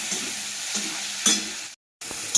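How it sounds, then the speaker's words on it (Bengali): Chopped tomato, onion and chillies fry in oil in a pan with a loud, crackling sizzle and brief stirring scrapes, cutting out abruptly for a moment before resuming. "এখন কেটে রাখা টমেটো আর পেঁয়াজ আর লঙ্কাগুলো আমি দিয়ে দেবো এগুলো একটু ভালো করে ভেজে নেবো আমি"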